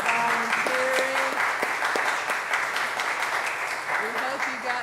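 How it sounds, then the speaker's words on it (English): Audience applause at a church gathering, many people clapping steadily and fairly loud, with voices talking and calling out over the clapping. "Give them a round of applause."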